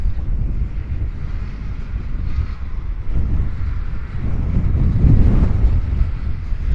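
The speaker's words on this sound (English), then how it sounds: "up on this hill" Strong wind buffets the microphone on a hilltop in low, rumbling gusts that swell and ease, growing heavier toward the end.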